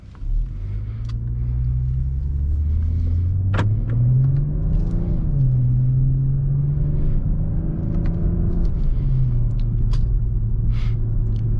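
A 2023 BMW M340i xDrive with the B58 engine, in Sport mode with paddle shifting, drives on the road, its steady engine drone rising and falling through gear changes beneath continuous road and tire rumble, with no talking.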